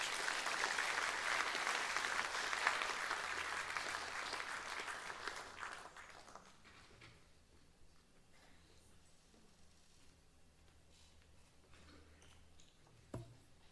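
A crowd applauds loudly for several seconds, then the clapping thins and fades to scattered claps and quiet room noise.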